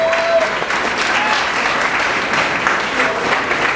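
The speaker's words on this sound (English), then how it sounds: "Round of applause for these incredibly courageous women." A crowd gives sustained, fairly loud applause for a group of women, an even wash of clapping across the whole stretch with a faint voice somewhere underneath.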